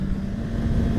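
Engine braking on a 2018 BMW S1000 XR motorcycle ridden with a quick shifter: a loud, steady low engine drone at high RPM, close and continuous, with no talking.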